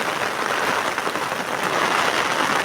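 Heavy rain pours steadily onto a rooftop terrace in Patdi, a dense, even hiss of countless drops with no pauses, close and loud throughout.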